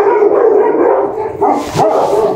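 Dogs bark and howl in a sustained, noisy chorus nearby, with a brief dip before the barking surges again.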